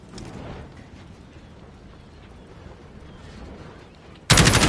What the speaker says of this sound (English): You're just unloading the entire magazine into a body's dimension.